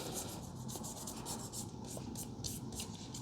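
Gun grease is rubbed by hand onto a bolt carrier group in steady, close, dry strokes that swish in a loose repeating rhythm with no talk.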